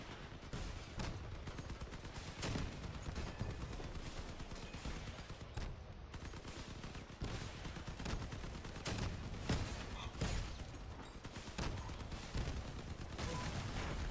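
Continuous bursts of vehicle-mounted weapon fire in Crossout rattle on for the whole stretch in rapid, dense volleys, fairly loud and alone with no voices.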